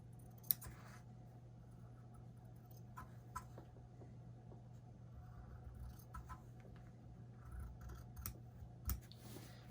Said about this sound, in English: So then we just need to cut across the line.